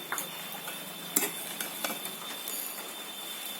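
A coconut and jaggery mixture for narkel naru is stirred with coarsely ground roasted sesame, heat off, making faint, steady scraping and light ticking taps in an uneven rhythm.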